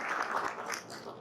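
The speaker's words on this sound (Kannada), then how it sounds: "ಅವರಿಗೆಲ್ಲರಿಗೂ ಇನ್ನೊಂದು ಸಾರಿ ಚಪ್ಪಾಳೆ ತಟ್ಟಿ ಹೃತ್ಪೂರ್ವಕವಾದ ಸ್ವಾಗತ." An audience at a Karnataka Rajyotsava award ceremony at Gulbarga University gives a faint, distant round of applause, a soft, steady patter of many hands that fades slightly toward the end.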